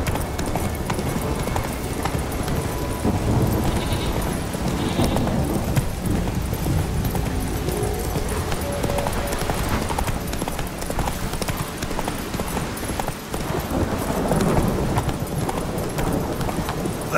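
Roach, the horse in The Witcher 3, clip-clops along in a steady galloping rhythm of hoofbeats, close and continuous, set against ambient outdoor game sound with a brief snort or whinny.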